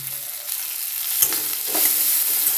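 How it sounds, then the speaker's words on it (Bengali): Tomato and ginger sauté in a pan for a vegetarian dish, giving a steady close sizzle broken by the scrape and clatter of a spoon stirring the mixture. "টমেটো আদা কাঁচা গন্ধ যতক্ষণ না যাবে ততক্ষণ একটু কষিয়ে নেব"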